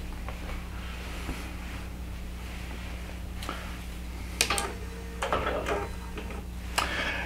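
A computerized quilting machine shifts to its starting position and draws up the bobbin thread, giving a low steady hum with scattered clicks and a few brief mechanical whirs and taps near the end, close by and quiet, with no talking.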